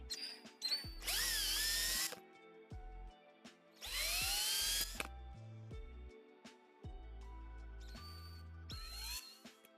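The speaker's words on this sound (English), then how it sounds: "You're wondering why I'm drilling into freshly printed plastic parts" Bursts of a power drill boring into freshly 3D-printed ABS plastic parts whine in and out, rising in pitch as it spins up, with clicks and handling noises between the runs.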